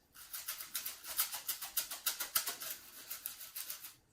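A small homemade shaker filled with oats is rattled back and forth in a quick, steady rhythm, giving soft, muted scratchy bursts at close range.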